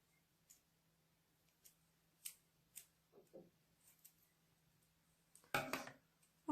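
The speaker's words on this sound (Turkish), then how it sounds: "Yine çift taraflı bantımızdan küçük küçük keseyim ben." Quiet, sparse snips of scissors cutting double-sided tape, a handful of separate clicks, then a louder rustling handling noise near the end.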